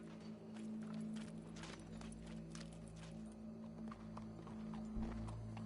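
Horse hooves clip-clop closer in Red Dead Redemption, a run of repeated hoof strikes over a low ambient hum, growing slightly louder toward the end.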